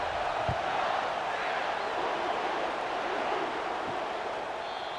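A stadium crowd in a college football video game, Georgia Tech against Georgia, keeps up a steady, wide roar throughout, loud and continuous, with no clear individual voices.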